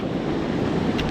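Sea surf washing steadily along a Moroccan shoreline during a spinning fishing trip, a continuous close roar of breaking waves with wind buffeting the microphone, no voices.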